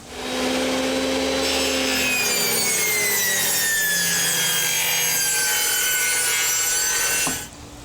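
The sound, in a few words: saw cutting a wooden board with a bevel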